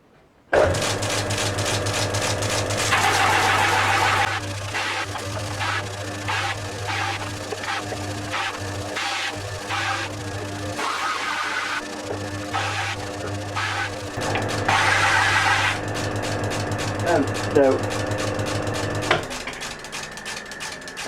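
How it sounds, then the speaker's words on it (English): A power sander grinds a wooden pen blank with a brass tube square against a guide rail set at 90 degrees, a steady loud whine with repeated pulses of contact and brief louder surges as the end is squared, no voices. "So I'm now just going to sand it back and square it off."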